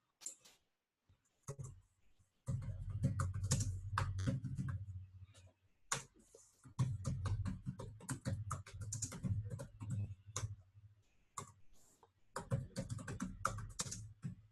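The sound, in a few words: typing code on a computer keyboard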